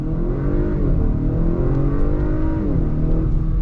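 A 2022 Acura RDX A-Spec SUV with a 10-speed automatic accelerates from a dead stop, its engine rising steadily in a continuous drone heard from inside the cabin, with quick gear shifts.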